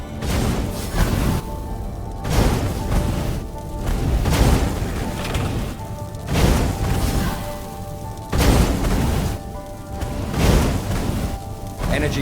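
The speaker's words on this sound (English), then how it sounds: "Energy cannons. The last argument of traitors." Energy cannons firing in the fantasy action game Stories: The Path of Destinies, a series of heavy booming blasts at regular intervals, loud and close, with mechanical whooshes between them.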